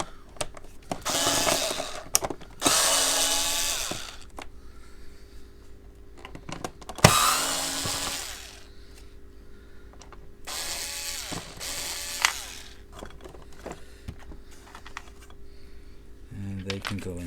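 Small screws being backed out of the plastic motor hood of a Hoover Turbopower Junior U1220 upright vacuum, giving bursts of close ratcheting, clicking screwdriver noise separated by quieter pauses and handling rustle.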